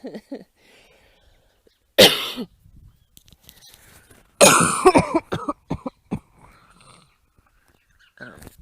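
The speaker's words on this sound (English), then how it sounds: "Sorry, coughing." Two bursts of harsh coughing, close and loud, separated by quieter moments with faint breathing and soft vocal sounds.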